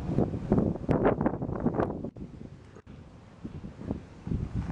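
Wind buffets a microphone outdoors, heavy irregular rumbling gusts that are loud at first, drop out briefly, then return more gently.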